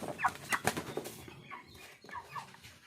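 40-day-old hens cluck in short bursts while wings flap noisily up close during weighing, then a few softer clucks follow.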